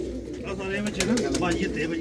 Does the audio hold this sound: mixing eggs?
no